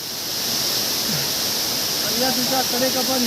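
A waterfall below the Sahyadri mountains gives a steady, full rushing roar throughout, with faint voices talking underneath in the second half.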